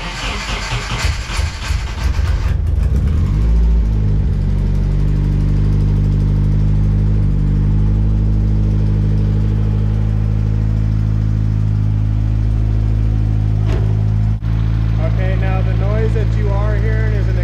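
KA24DE engine with an exhaust leak, running and revving: a steady, close idle drone that rises and falls through a few revs, with some voice audible in the background.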